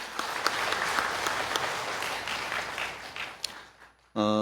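Congregation applauding parents during a Parents' Sunday church service, dense sustained clapping filling the room, then cut off abruptly by a short burst of music at the end.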